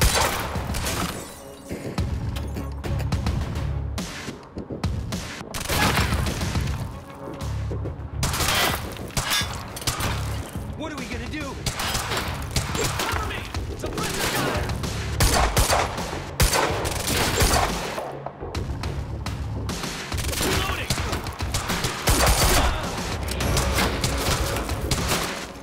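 Dense gunfire fills a firefight in the Quantum Break video game's campus escape, with rapid bursts, booms and shattering layered almost continuously, loud and relentless with only brief dips.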